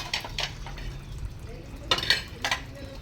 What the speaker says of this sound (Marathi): आपण इथंच भांडी घासायला येतो